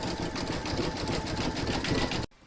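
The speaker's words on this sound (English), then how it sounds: "Put your hoop back into your machine and stitch round number 6, and that's going to zigzag all the raw edges." An embroidery machine zigzags a stitching round along raw edges of doll shorts, a rapid, rhythmic mechanical buzz, close and steady, that stops abruptly near the end.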